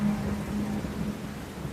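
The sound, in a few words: rain and thunder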